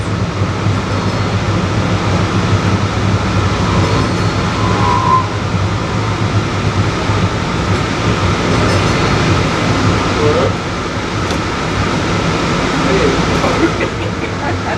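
A DART Green Line light-rail train runs out of downtown Dallas, its wheels and motors giving a steady, loud onboard rumble throughout, with faint talk under the noise.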